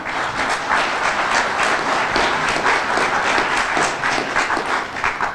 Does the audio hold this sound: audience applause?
yes